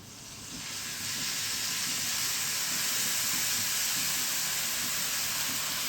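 Loud, steady hiss of rotli tempering sizzling in a pan with buttermilk poured in, swelling over the first second, then holding a constant roar with no voices.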